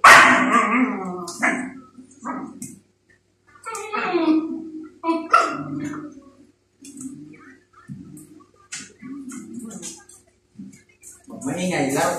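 Playful dog at home barking and yipping in short bursts with a few whimpers, close by, while someone talks over and between the barks.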